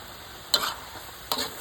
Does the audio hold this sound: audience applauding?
no